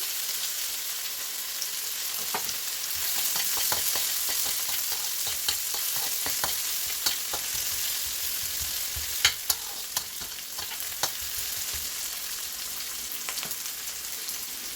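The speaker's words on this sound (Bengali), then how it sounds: "আমি এখন একটু পেঁয়াজ দিয়ে দিচ্ছি" Onion frying in hot oil seasoned with panch phoron for a tomato chutney, a steady close sizzle with scattered crackling pops and occasional stirring clicks, no talking.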